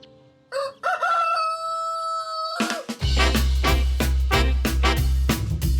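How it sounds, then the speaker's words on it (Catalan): A rooster lets out one long, clear crow, then lively music with a steady beat kicks in and carries on. "Cada dia al dematí canta el gall quiquiriquí."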